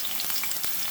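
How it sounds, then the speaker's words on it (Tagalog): Aromatics sizzle and crackle in a hot frying pan, a steady close hiss with small bright pops and occasional stirring, cooked for a Filipino adobo-style home lunch. "Ayan, luto lang natin yung mga aromatic natin."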